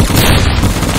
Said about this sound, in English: I've always wanted to use this gun, the executioner.